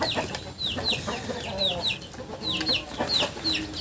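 Several young native chickens, one to three months old, cluck and chirp repeatedly, close by, in a busy, continuous chatter over a low background murmur.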